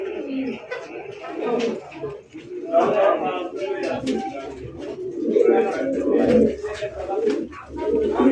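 Pigeons coo in repeated soft, low rounded calls, close by, under ongoing talk from people nearby handling the birds.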